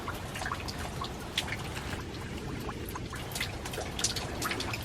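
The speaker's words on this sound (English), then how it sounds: "We are getting a little bit of rain today" Light rain falling in a garden among forsythia bushes, a steady dense patter of drops and trickling water without pause, fairly close and even in level.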